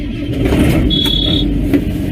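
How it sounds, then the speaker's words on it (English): A single steady warning tone of about half a second sounds from a diesel ranch vehicle as it is started, over a loud low engine rumble. "Make sure any alarms clear, if there are any."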